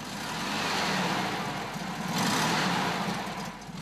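A vintage Volkswagen T1 split-window bus with a 1.2-liter, 34-horsepower engine runs with a steady, full mechanical drone that swells slightly midway, alone with no voices.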